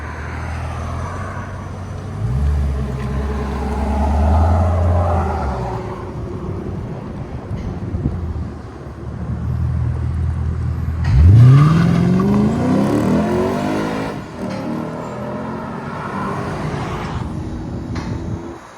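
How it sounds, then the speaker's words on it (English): A Lexus RC F with a 5.0-liter V8, mid resonator deletes and Borla Pro XS rear mufflers idles with a deep burble, blips, then sweeps up in a loud rising rev before settling back down. "Lexus RCF, mid resonator leads, Borla Pro XS, mufflers in the rear."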